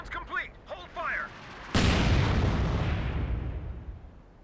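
Artillery barrage in Company of Heroes 2 with a sudden heavy boom that rolls into a long, decaying rumble of explosions, following brief spoken voices beforehand.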